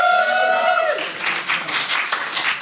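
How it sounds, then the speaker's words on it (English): Audience applause at a spoken word poetry event in London, a dense patter of clapping that rises after a sustained tonal sound fades in the first second and continues steadily to the end. "This evening, can you give yourselves a round of applause?"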